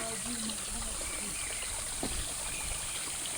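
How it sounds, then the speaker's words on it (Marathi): A stream and waterfall flowing at Yeoor during the rainy season, a steady broadband rush of water heard from a short distance, with a faint voice in the background. "आम्ही हळूहळू आता येऊरच्या धबधब्यावर आलोय"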